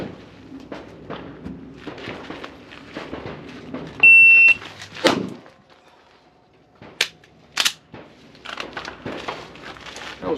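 Pistol shots from a Shadow Systems MR920 on a speed and accuracy shooting course: a few sharp, loud cracks spaced apart amid a steady electronic beep and faint outdoor background.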